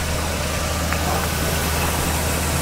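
A dirty 1977 Corvette barn find running just outside the garage, giving a steady, close, low idling rumble for a few seconds with no talking.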